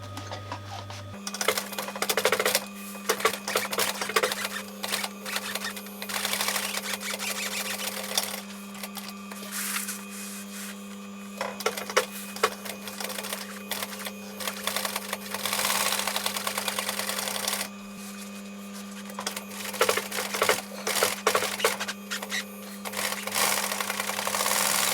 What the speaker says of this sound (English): I'm just going to sew this little bit